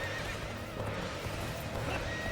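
A horse whinnies in the Dynasty Warriors Origins video game, a faint neigh over hoof clip-clop and a thick wash of battle noise.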